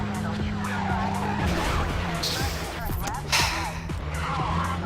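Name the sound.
car driving and skidding in video game Midnight Club 2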